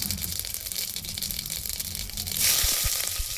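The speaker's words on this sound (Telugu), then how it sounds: "నూనె వేడయ్యాక ఆవాలు, జీలకర్ర వేసుకుందాం" Mustard seeds and cumin crackle in hot oil in a pressure cooker pot, a dense sizzling crackle that swells louder in the final second with a few sharp pops.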